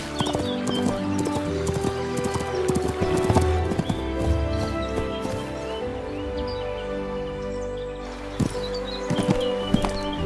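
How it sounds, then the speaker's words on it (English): A horse being ridden, its hooves clip-clopping in a steady rhythm with an occasional whinny, over rustling outdoor ambience and background music, no talking. "At sunset, she mounted her horse and rode toward Verdel, her decision clear."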